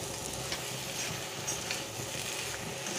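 Fish fat chorchori with potato, aubergine and tomato frying in a pan, a steady close sizzle with faint scraping as it is stirred, no talking.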